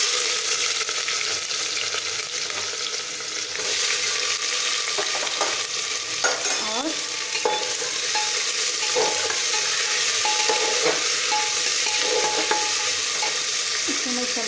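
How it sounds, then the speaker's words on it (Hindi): Onions sizzling steadily in a hot pan for a paneer dish, a continuous loud fry with occasional scrapes and clinks of a spoon stirring. "अब मैं इसमें प्याज डालूंगी।"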